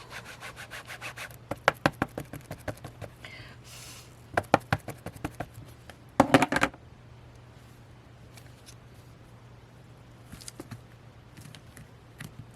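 Quiet intermittent rubbing strokes as a surface is wiped off during a paper weaving craft with leftover paper strips, short scratchy bursts spaced across the stretch with near silence between.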